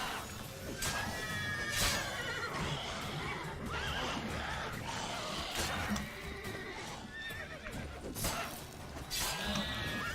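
A horse, Vesemir's mount in The Witcher 3: Wild Hunt, neighs loudly and repeatedly amid hoof clops, crashing impacts and clashing combat sounds from a fight with a ghoul.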